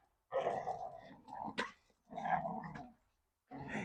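Dogs playing outdoors during a Jeep windshield swap growl and whimper in several short, close bursts separated by brief pauses, with no clear speech.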